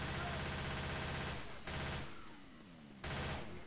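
Rapid gunfire in a Left 4 Dead 2 versus match, loud sustained bursts that cut out briefly and then resume, with no talking over the shooting.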